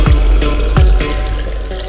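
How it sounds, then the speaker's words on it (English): Spring water runs from a spout at a small mountain house on a Swiss Alps hiking trail, filling water bottles with a steady close trickle and splash, punctuated by a few brief knocks. "they've got some water coming out. So we just filled up our water bottles."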